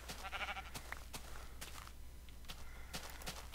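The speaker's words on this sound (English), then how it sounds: "let's get some naked sheep while we're at it" Sheep bleat in a jungle-and-farm video game, a few short bleats spread over the clip amid game ambience and footstep-like clicks, fairly quiet with no talking.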